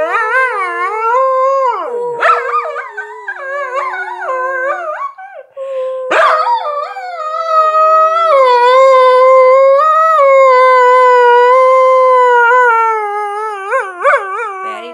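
A dog howls loudly and close, long wavering sung howls with pitch slides and a few yips between phrases, no talking.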